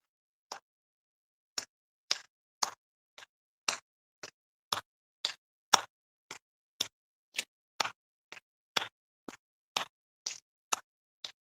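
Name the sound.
audience clapping hands in front and behind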